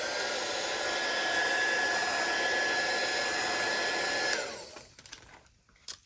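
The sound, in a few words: hair dryer drying journal craft project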